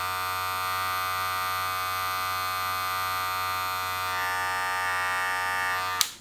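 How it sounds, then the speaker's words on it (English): Electric hair clipper running, a steady buzzing motor hum with strong tonal whine, close and continuous, then cutting off abruptly at the end with a small click. "Right here we have the other clipper, guys, that does have the plastic piece."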